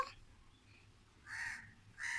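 A crow caws twice, each call a short harsh burst at moderate distance, with faint ambient background between them.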